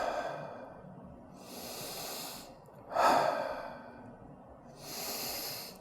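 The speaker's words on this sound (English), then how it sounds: "3 breaths." Slow, audible breaths during a children's chair yoga exercise, three soft airy inhale-exhale swells, the middle one louder and slightly rasping, close up and without speech.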